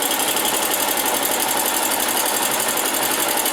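A sewing machine stitching a fancy stitch, a steady, fast, even mechanical whirr that runs without a break the whole time, close and loud with no one talking.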